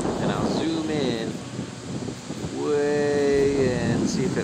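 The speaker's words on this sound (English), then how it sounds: "you'll notice probably it's pretty windy" Strong wind buffets the microphone on the Kelleys Island, Ohio shore, a broad continuous rush under someone talking, with gusts rising and falling throughout.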